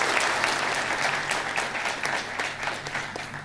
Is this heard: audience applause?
yes